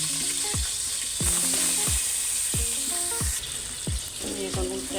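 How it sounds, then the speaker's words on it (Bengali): Shrimp frying in hot oil in a pot, a steady loud sizzle with repeated sharp knocks of a utensil against the pot throughout. "তেল দিয়ে এখন ভেজে নিব মাছগুলি।"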